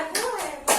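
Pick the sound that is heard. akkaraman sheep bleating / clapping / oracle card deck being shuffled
clapping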